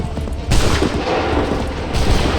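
A musket volley in Assassin's Creed III, a loud, close ragged crackle of many gunshots fired together, then a second burst about a second and a half later over rumbling battlefield noise.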